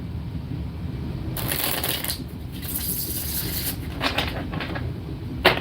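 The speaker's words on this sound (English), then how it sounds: "One more shuffle." A deck of tarot cards is shuffled by hand, giving several quick riffling bursts of papery flutter with short pauses between them, close and clear.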